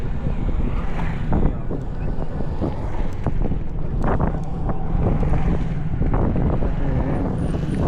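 Strong cold wind roars steadily and buffets the microphone throughout, a continuous rushing noise with no voices, in Odisha.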